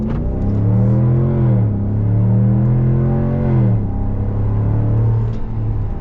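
Deep V8 rumble from a 2022 Ram 1500 Rebel GT's Hemi engine as the pickup pulls away, the pitch rising and dipping through gear changes, steady and close with no talk over it.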